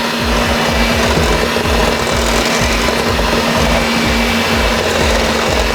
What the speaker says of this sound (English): take our mixer